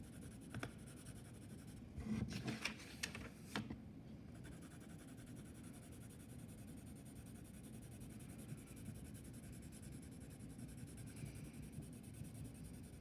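A 2B pencil shades across paper in soft, continuous scratchy strokes, quiet and close, with a few sharper rubs early on.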